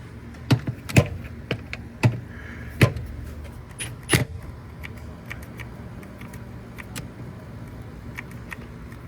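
Bolts come off a cabover truck during a shop rebuild: a string of sharp metallic clicks and clanks, a few loud ones early and fainter ticks later, over a quiet background.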